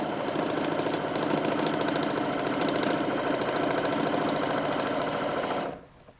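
A sewing machine runs fast and steadily as its needle perforates a paper stencil for fabric printing, a close, dense rapid clatter for several seconds that then winds down and stops near the end.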